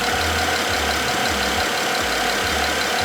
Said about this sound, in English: Engine, you know, it's running nice and smooth